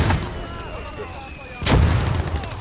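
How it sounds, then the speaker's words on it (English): A mortar shell bursts against an FT-17 tank in a war video game, a loud booming impact landing suddenly after a stretch of softer rumbling battle noise, with a low voice speaking faintly underneath. "And we are taking mortar fire."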